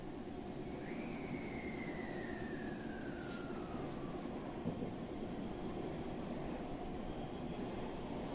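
A Japanese Special Rapid Service commuter train departing Kyoto toward Maibara rumbles steadily on its tracks with a constant low roar and rattling, while a faint descending whine drifts across early on.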